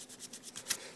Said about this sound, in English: take the back of the sandpaper, let me reiterate that, the back of the sandpaper, right, and you can rub and rub and rub.